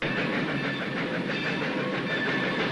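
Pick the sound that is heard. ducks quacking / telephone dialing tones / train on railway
train on railway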